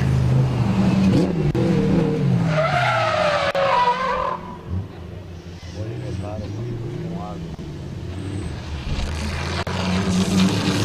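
Drift cars including a Toyota GT86 battle on the Calmont touge, with loud tyre screeching, revving engines and shifting pitches, while a commentator speaks excitedly over the noise.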